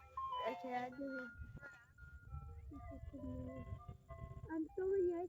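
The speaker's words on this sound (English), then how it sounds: "I'm filming the ice cream truck." A stopping ice cream truck plays its tinkling melody in clear tonal notes that run through the whole clip over street background noise, while a voice comes and goes over the tune.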